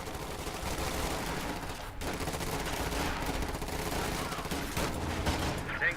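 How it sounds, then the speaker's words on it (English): Enemy gunfire in Company of Heroes 2 crackles in a dense, continuous fusillade of rifle and machine-gun shots, loud and close, layered over constant battlefield din with no pauses. "Taking enemy fire."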